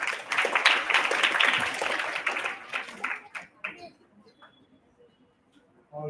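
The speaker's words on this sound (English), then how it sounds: "Can we have a round of applause for them," An audience at a Techno Quest stage event claps for about three seconds, then the applause thins into scattered claps and fades to near silence.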